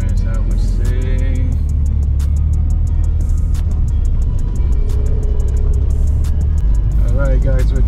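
A car rolls slowly through the main entrance of a big car meet, its engine giving a constant loud rumble with crowd noise and talk around it.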